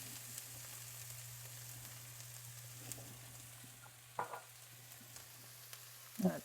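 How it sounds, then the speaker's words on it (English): Diced onion going into hot oil in a pan for chicken enchiladas gives a faint, steady sizzle over a low hum, with a couple of soft clatters near the end. "Now I'm going to add my onion."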